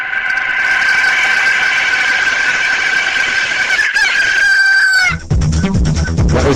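A rooster crows in a long, loud call as part of a radio segment jingle, and the crow cuts into a clucking, music-like burst at the end.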